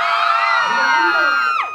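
A loud jaripeo crowd yells and whoops as one, a dense wall of excited voices that holds steady before a final rising shout trails away.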